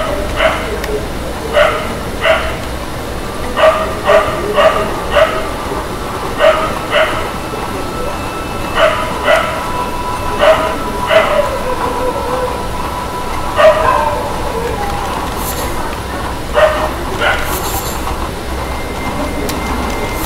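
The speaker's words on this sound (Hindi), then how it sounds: "कुत्ता आ जाता है, उसका वॉइस आ जाता है।" A dog barks at night somewhere in the background: a string of short, sharp barks repeats irregularly, fairly distant, over a steady bed of ambient game sound.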